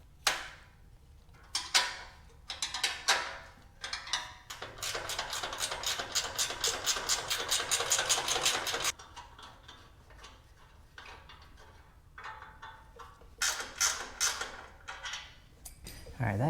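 A ratchet wrench loosens the rear exhaust bracket bolts on a Honda VTX1800 motorcycle, with scattered metallic clicks and then a fast, steady run of ratcheting over several seconds, followed by more intermittent clicks and tool handling.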